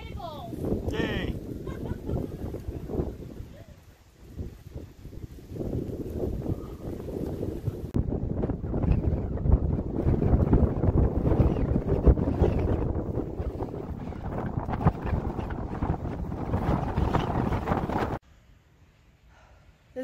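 Strong wind on a mountain trail on Grandfather Mountain in stormy weather, roaring and buffeting the microphone in heavy continuous gusts for about eighteen seconds before abruptly dropping to near quiet.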